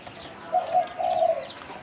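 A pigeon gives a low, throaty coo in two rolling phrases, close and clear over a quiet outdoor background with faint chirps.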